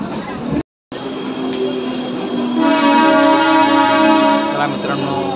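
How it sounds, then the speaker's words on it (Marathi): A Mumbai local train at platform 10 of Thane station rumbles along under a steady, loud running noise, then sounds a long, sustained horn blast that holds for several seconds near the end. "प्लॅटफॉर्म क्रमांक 10वर आपली ट्रेन आलेली आहे"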